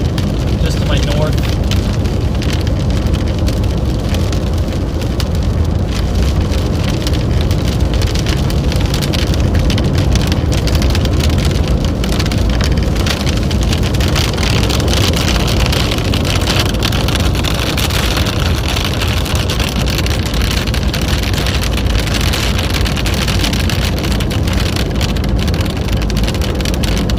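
Heavy rain falls during storm chasing under a Southern Plains supercell: a loud, unbroken roar of rain and road noise holds steady the whole time.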